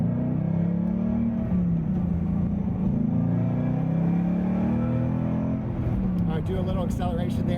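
A Revology Shelby GT350 accelerates nearby, its deep engine rumble rising and falling through gear changes, with a voice talking over it near the end.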